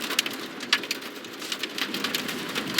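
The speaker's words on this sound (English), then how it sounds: "You can see a lot of heavy rain." Heavy rain falls steadily on a Fort Worth street near West 7th and Montgomery during a severe storm, giving a dense continuous hiss with scattered close drops spattering on surfaces.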